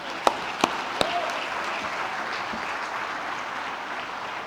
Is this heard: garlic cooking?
no